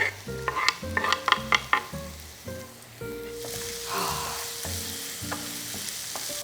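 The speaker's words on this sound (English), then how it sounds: "Now since the onions are slightly soft, I'll go ahead and add the tomatoes as well." Tomatoes go into a pan of softened onions while cooking a vegan tofu paneer dish. Light musical tones play at first, then a steady, moderate sizzle and frying hiss takes over and continues to the end.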